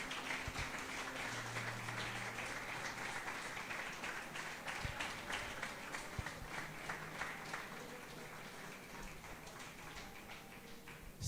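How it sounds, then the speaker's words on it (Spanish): A church congregation applauds during a morning service, a steady dense wash of clapping that stays fairly faint and even throughout, with scattered sharper claps standing out. "¿cuántos pueden brindarle un fuerte aplauso a Dios en esta mañana?"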